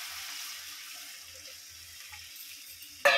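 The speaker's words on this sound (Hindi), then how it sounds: "तो अब हम पानी इसमें डाल देंगे।" Warm water poured into sizzling fried masala for a potato and egg curry: faint, quiet frying crackle, then a sudden loud hiss and splash right at the end.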